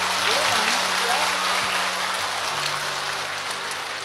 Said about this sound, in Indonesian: Tepuk tangan dulu buat anak pertama.